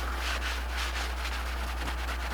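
A trowel polishes Decor wax over Marmorino Venetian plaster with soft, rhythmic rubbing swishes, close and quiet over a steady low hum.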